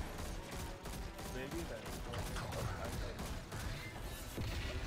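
Rapid, continuous weapon fire against a Tormentor boss in the video game Destiny 2. Dense, crackling bursts of shots and impacts layer together without a break.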